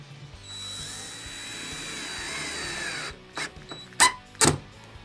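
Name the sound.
power drill driving drywall screws into soundproofing panels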